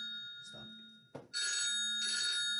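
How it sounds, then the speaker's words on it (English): A phone rings in bursts of electronic trilling tones, loud and close, with a speaker's voice briefly audible between the rings. "That's what happens when you don't turn your phone off."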